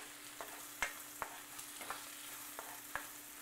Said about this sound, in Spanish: Le ponemos los chilitos picados también. Seguimos moviendo.